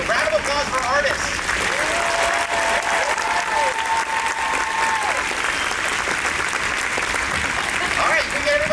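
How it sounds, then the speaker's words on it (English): A convention audience at a Haunted Mansion 50th anniversary panel applauds the artists, sustained, full crowd clapping throughout with a few cheers and a voice briefly over it. "Round of applause for artists."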